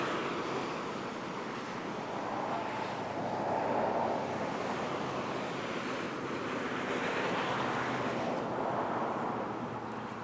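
San Geronimo Creek flows below an overlook as a continuous broad rushing wash, steady and somewhat distant, blended with light wind, no voices.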